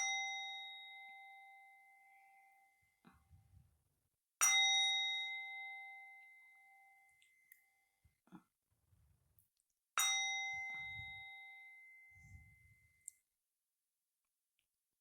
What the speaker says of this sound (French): on va faire 3 petits coups de bol tibétain